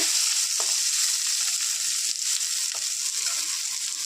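Potatoes and flat beans fry in a pan with a loud, steady sizzle, and a few brief stirring scrapes rise above the crackle.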